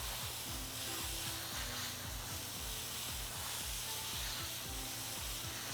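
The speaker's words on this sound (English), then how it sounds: "let's go ahead and water all these pots" Water pours into dragon fruit plant pots outdoors, a steady broadband hissing rush that runs unbroken throughout, with faint low knocks underneath and no talking.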